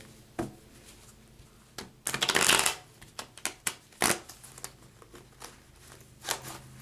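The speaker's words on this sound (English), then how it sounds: "I'll do a couple more shuffles" A deck of cards is shuffled nearby: a dense riffling burst, then several quick snaps and taps as the cards are squared and cut.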